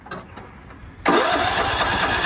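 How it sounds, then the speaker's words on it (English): A riding lawn mower engine cranks and catches after a second of quiet, then settles into a loud, steady, close-up running rumble with no talk. "This mower starts when our 350 at home doesn't."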